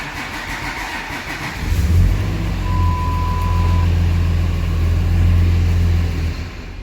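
A 2006 Ram 3500 with a Cummins diesel engine cranks and catches, then settles into a loud, rough, low idle that rumbles steadily and starts to fade at the end, with no talk.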